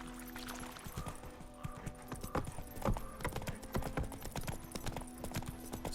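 Geralt's horse Roach gallops in The Witcher 3, a rapid, close run of hoofbeats that continues throughout over soft game ambience.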